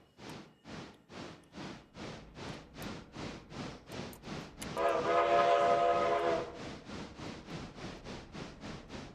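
A heavy steam freight train reversing in the railway game Railroader, hauling 500 tons: a steady rhythmic chuffing of exhaust beats pulses throughout, and a loud whistle blows for about two seconds midway, with no talk.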